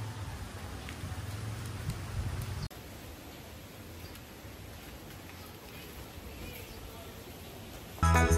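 Steady hiss of heavy rain on Olango Island, an even wash of falling drops with a brief louder gust-like rush near the start and an abrupt shift partway through.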